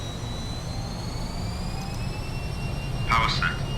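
Twin jet engines of a Fokker F28 airliner spooling at takeoff power in a flight simulator, a steady roar with a high whine that holds evenly throughout, and a brief chirp near the end.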